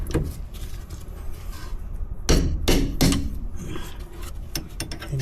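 Hammer blows on brake parts of a Toyota RAV4 during a DIY brake clean-up, a few sharp metallic strikes, close and loud, spaced irregularly over a low garage background.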